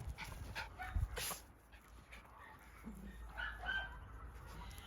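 Several dogs romping together outdoors, faint scuffling, panting and soft yips at a distance with quiet background noise and birds.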